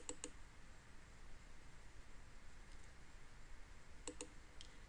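A computer mouse clicks a few times while a file is chosen for upload, two quick faint clicks at the start and a couple more near the end over quiet room hiss.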